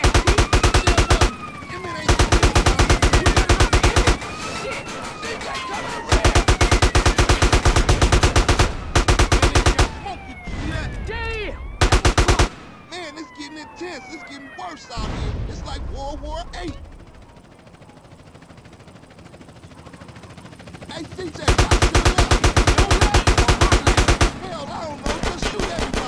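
AK-47 fire in GTA San Andreas: loud, rapid automatic bursts that repeat in several stretches, mixed with a wailing police siren and other game noise, with voices talking between bursts.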